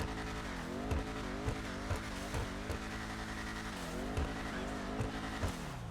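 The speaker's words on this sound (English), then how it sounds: "I actually really like the sound of this muscle car." The V8 engine of a Vapid Dominator ASP muscle car in GTA Online revs repeatedly, a thick throbbing drone rising and falling in regular surges, steady and fairly quiet with no talking.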